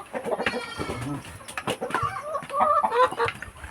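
Backyard chickens cluck close by while being fed, with quick, overlapping clucks and short calls that run continuously through the moment.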